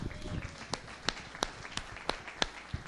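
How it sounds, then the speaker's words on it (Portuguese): Sparse, fairly faint clapping in a church congregation, about seven separate sharp claps at a steady pace over a low background murmur. "Dá uma salva de palmas ao Senhor Jesus"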